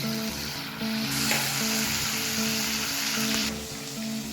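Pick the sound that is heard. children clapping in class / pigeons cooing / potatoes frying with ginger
potatoes frying with ginger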